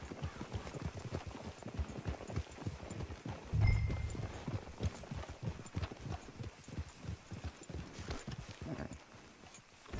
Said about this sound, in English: heard you pay good prices for horses